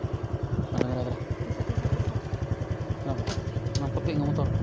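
A white motorcycle's engine putters nearby in a steady rapid rhythm, with people talking over it.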